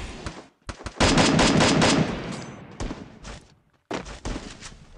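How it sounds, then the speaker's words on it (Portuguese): Free Fire gunshots crack in quick bursts, several sharp close reports followed by a sustained rattling volley, then more scattered shots after a short gap, loud and with little talk. "é hora de atirar, vai ter tiro"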